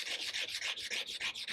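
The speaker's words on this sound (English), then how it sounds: "you shouldn't have a lot of this sanding to do" Sandpaper is rubbed by hand along a steel knife blade in steady back-and-forth strokes, about a dozen rhythmic rasping passes, close and fairly quiet with no talking.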